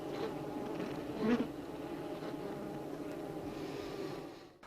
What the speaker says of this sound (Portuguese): Um zangão recém-formado é retirado à força de sua célula.